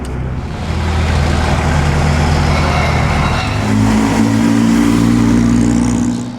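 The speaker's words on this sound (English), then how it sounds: "this four-cylinder Ferrari is really" A four-cylinder Ferrari race car at the Mille Miglia revs loudly and steadily up close, its engine note rising and holding in a deep continuous roar with no talking.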